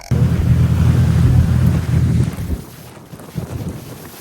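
A big boat travelling to the Phi Phi islands off Thailand, with loud, close wind buffeting the microphone and a low engine rumble over rushing water, easing off partway through.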